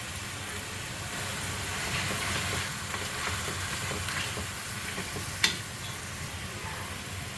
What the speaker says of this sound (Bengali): এখন আমি আদা রসুন পেস্ট দিব 1 চামচ।